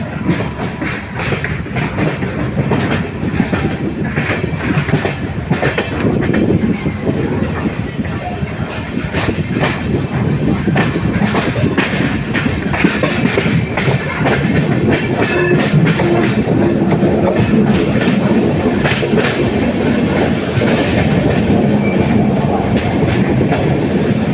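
A passenger train runs on the Guntur to Ernakulam line, a loud, continuous rolling roar with steady rhythmic clickety-clack of wheels over rail joints throughout.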